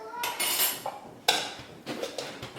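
Metal spoon clinks against a dish as a big spoonful of sugar is added, with a few sharp, close taps and scrapes separated by short pauses.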